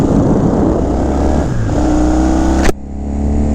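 A 1972 Yamaha XS2 650 parallel-twin motorcycle engine runs up close with a loud, steady throb, then drops off abruptly near the end before the idle settles back in.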